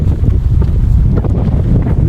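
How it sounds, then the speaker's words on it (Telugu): Cold wind buffets the microphone during a motorbike ride in heavy snowfall around Kaza, a loud continuous low roar with no breaks and no talking. "అక్కడ నుంచి చూడండి చల్ల గాలి వస్తుంది"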